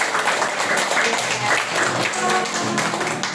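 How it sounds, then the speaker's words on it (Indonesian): A class of schoolchildren claps for themselves in a steady, dense round of applause that fills the room, with faint voices mixed in. "Kita tepuk tangan untuk diri"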